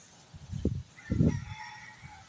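A chicken gives a couple of short clucks followed by a brief crowing burst, close and fairly quiet against a faint background hum.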